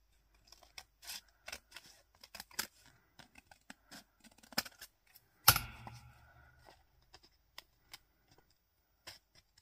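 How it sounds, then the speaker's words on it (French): Scissors snipping through vellum paper in a quiet craft setting: a series of short, crisp close-up cuts and clicks at irregular intervals, with one louder snap midway. "Et là, on va couper le vélum."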